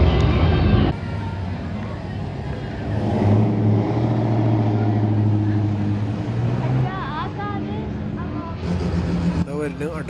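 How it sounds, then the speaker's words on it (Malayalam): A Mazda RX3 wagon with a rotary engine runs loudly and steadily at close range, its buzzing note swelling and easing under ongoing talk, with a brief sharper burst near the end. "RX3 wagon. എന്താ സൗണ്ട്, ഒരു രക്ഷയില്ലാത്ത സൗണ്ട്"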